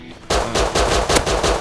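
Rapid bursts of AK rifle fire in the survival game Rust, a loud, close automatic volley of about seven sharp shots in quick succession after a brief lull.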